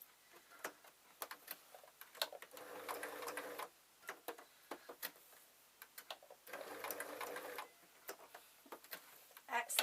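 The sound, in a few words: sewing machine stitching a felt Christmas tree star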